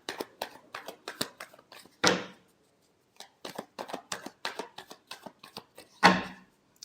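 Tarot cards shuffled in repeated quick riffles, a dense run of crisp flicking taps broken by two louder cascading bursts where the deck bridges together, close and clear with no talk.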